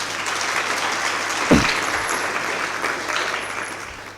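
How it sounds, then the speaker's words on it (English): Audience applause in a hall at a youth entrepreneurship symposium, a steady wash of clapping with one louder thump partway through. "So let's give the university a round of applause."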